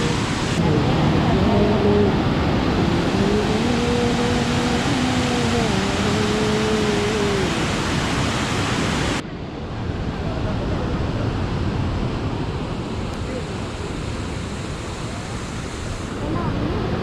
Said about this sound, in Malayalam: ആ വെള്ളം തല്ലി വന്നതുണ്ടോ പാറയിലേക്ക്?